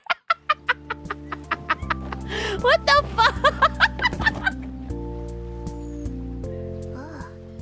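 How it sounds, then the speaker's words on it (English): A chicken clucks in a quick run of sharp, close calls early on, then a few softer clucks follow under a shaky human voice and laughter, with steady low background hum throughout. "It's a fucking chicken"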